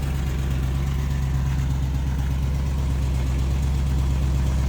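A Land Rover LR3 that sat unused for two years idles steadily while warming up, a continuous low, even engine rumble heard up close with no talking.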